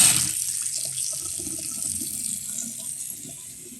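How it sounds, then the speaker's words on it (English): Water runs steadily from a newly installed single-hole bathroom faucet into the sink, a continuous close hiss and splash that holds throughout, tapering slightly toward the end. "we're going to turn the water back on and check everything for leaks"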